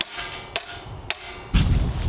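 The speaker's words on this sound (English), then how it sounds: "we have to get the hammer out" Hammer tapping rebar into a drilled hole in concrete, two crisp sharp strikes about half a second apart, then a heavier, louder blow with a dull low thud.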